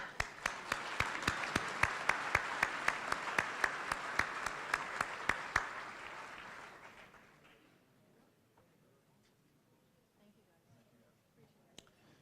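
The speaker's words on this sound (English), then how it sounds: "Let's give him a round of applause." Luncheon audience at a mayor's business celebration breaks into applause, steady with sharp, evenly spaced claps standing out, then fading away after about seven seconds into a quiet room.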